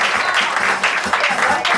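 A live audience claps steadily in rhythm at a lively Latin American dance event, the dense patter loud and close and carrying on without a break.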